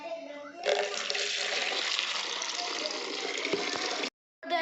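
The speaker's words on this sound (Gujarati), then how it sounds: "અને અહીંથી પાણી ભરી લઈએ." Water gushes steadily into a tin container from an outdoor source while planting seedlings, a loud continuous pouring that runs for about four seconds and then stops abruptly.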